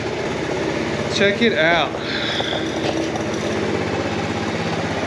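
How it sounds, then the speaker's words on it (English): A 1985 Honda ATC 70 engine idles slightly high on its rebuilt original carburetor, a steady close mechanical hum and chug running throughout while someone speaks briefly over it. "I think the idle may be a tad high."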